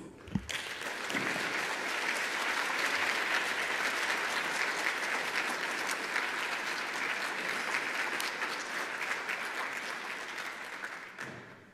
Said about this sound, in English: Please, let's give Eunice a big round of applause